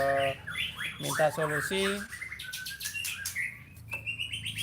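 A white-rumped shama, a caged murai batu songbird, sings a varied run of sharp whistles, chirps and trills, close and clear, while someone speaks quietly underneath.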